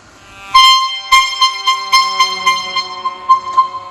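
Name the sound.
horn of an old Mercedes-Benz bus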